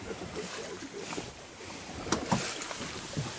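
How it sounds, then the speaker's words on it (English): Oars working a small boat near brown bears at Geographic Harbor, soft splashes and wooden knocks over light wind and water noise, close and fairly quiet. "And so the guys are rowing."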